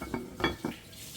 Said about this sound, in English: I will cover it and just kind of let it let the lentils soften up